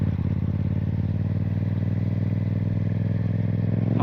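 A motorcycle engine runs loud and close, holding a steady mid-pitched drone with a rough, clattering texture as the rider downshifts and uses engine braking to slow.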